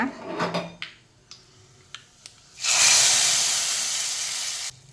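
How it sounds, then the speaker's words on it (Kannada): Tempering spices dropped into hot oil for an Udupi-style drumstick and brinjal sambar burst into a loud, sustained sizzling hiss lasting a couple of seconds after a few light clinks and taps. "ಈಗ ಒಗ್ಗರಣೆ ಕೊಡುವ"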